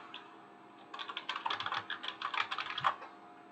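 Fingers tap out a short burst of typing on a computer keyboard, quick irregular clicks close up in an otherwise quiet room.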